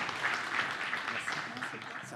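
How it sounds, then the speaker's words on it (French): Audience applause at a disability summit plenary session, steady and moderate, with talk mixed in underneath throughout. "S'il vous plaît, on les applaudit."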